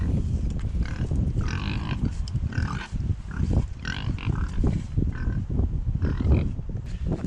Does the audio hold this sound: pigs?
yes